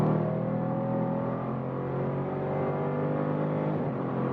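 A 2017 Chevrolet Camaro SS V8 engine and exhaust roar steadily under load, a close, sustained and loud throaty drone with rising harmonics as it accelerates, heard alone without talking.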